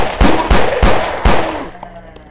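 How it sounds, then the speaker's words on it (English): Loud gunshots fired in a video game, four sharp heavy cracks in an uneven rhythm close up, each with a short rumbling tail, then fading to quiet room tone. "That was a loud gun."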